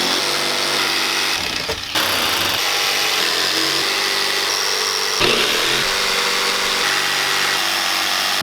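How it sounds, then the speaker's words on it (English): A jigsaw cuts steadily through the front or rear bumper of a Lexus GX470, a loud, continuous buzzing saw sound lasting the whole stretch, with two brief dips where the blade pauses and restarts. "today we are going to be using a jigsaw to cut this."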